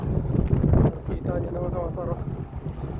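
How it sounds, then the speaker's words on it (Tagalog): Strong wind blowing outdoors on a snowy, slippery road in Canada, gusty rushing buffeting the microphone throughout while someone talks over it. "Mahangin dito banda."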